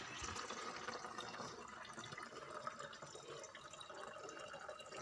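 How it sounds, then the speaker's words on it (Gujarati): Pure bottled drinking water pours into a container on a farm, a soft continuous splashing and trickling stream that runs steadily for several seconds, faint and with no voices. "છે ને પાણી ભરાય છે ને પ્યોર બિસ્લેરીનો"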